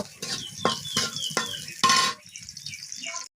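Dried chillies and chopped onion frying in hot oil, with several crisp spatula scrapes over a crackling sizzle that then thins to a quieter hiss before cutting off.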